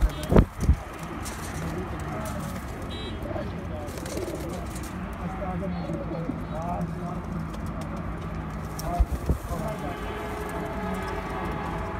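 Pigeons coo softly on a rooftop loft, their low murmuring calls spread over a steady outdoor noise, with a few sharp knocks and flutters now and then.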